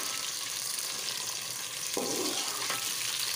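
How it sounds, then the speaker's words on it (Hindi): Okra (bhindi) fries in oil in a pan with a steady, close hiss of sizzling, broken by a couple of brief stirring scrapes near the end. "हमने इसमें भिंडियाँ डाल दी हैं, भिंडियाँ फ्राई होंगी अब थोड़ी देर"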